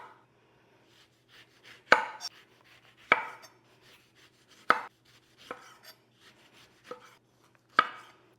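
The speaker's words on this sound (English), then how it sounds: "So let's get started on chopping our fruit." A knife chops fruit, including an orange, on a cutting board for a Valentine's Day picnic. About seven distinct, close thuds land at uneven intervals, with soft handling noises in between and no talking.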